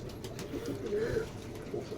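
Pigeons coo in a home loft in Kushtia, a low rolling murmur that swells and fades steadily across the whole stretch at moderate loudness, with no talk over it.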